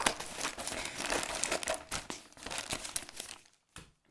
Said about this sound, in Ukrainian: беру ножиці і розкриваю цей пакунок